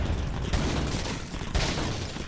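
Gunfire in the video game Resident Evil 4 (2005): two loud, booming shots about a second apart over a dense, noisy game soundscape.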